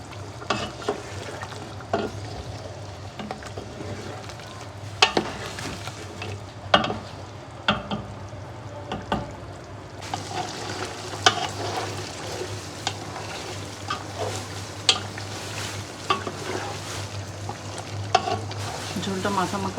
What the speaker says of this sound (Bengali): জিরা বাটা, মরিচের গুঁড়া, আস্ত মরিচ, পেঁয়াজ, লং আর গোলমরিচ দিয়ে এটাকে সিদ্ধ কষাতে দিয়েছি